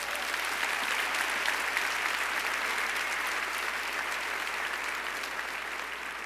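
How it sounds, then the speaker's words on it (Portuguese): Dense, even applause from a church congregation at an evening Christian service, sustained and fairly close throughout, with no talking over it. "Vamos aplaudir o Senhor por isso?"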